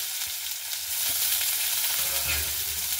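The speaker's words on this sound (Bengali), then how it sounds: "খুব ভালো মতো করে পেঁয়াজটাকে আমি ভেজে নেব" Chopped onions frying in hot mustard oil with nigella seeds for radish greens, a steady close sizzle with a few soft stirring scrapes, no talking.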